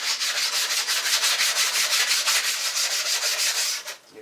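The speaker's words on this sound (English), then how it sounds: "Now you just want to do a light sanding on this." Light hand sanding of the gasket surface on a used Chevy small-block cylinder head, a steady, close, rhythmic scratchy rubbing of quick back-and-forth strokes that stops just before the end.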